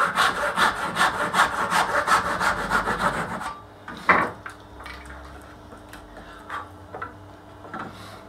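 A hand saw trims wood for a picture frame, brisk rhythmic back-and-forth strokes close up for about three seconds, then it stops, followed by a sharp knock and faint handling sounds.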